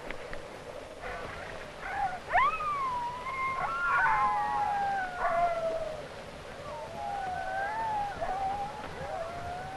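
Sled dogs in a snowy northern setting howl and bark in a chorus of rising and falling wavering cries, fairly close, over a steady background hiss.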